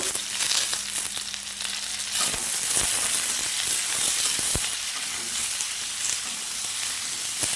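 Green chillies fry and get stirred with elephant foot yam in hot oil, a steady close sizzle punctuated by a few sharp spatula clacks against the pan.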